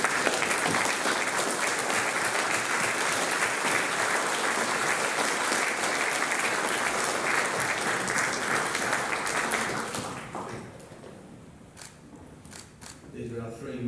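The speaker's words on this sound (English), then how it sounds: "Big round of applause" An audience at a boys' school Year 8 prize giving applauds the year's prize winners, with sustained loud clapping for about ten seconds that then fades quickly to a quiet room with a few scattered noises.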